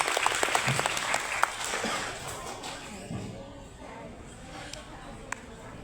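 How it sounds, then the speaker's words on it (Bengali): Applause from an audience honoring a visiting school teacher at an art exhibition in Bangladesh, a dense clatter of clapping that starts strong and gradually thins while a voice speaks over it. "স্যারের জন্য একটি জোরে করতালি হবে প্লিজ"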